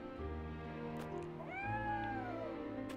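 A cat in the video game Triangle Strategy gives a single drawn-out meow with a rising-then-falling pitch over a steady droning game soundtrack.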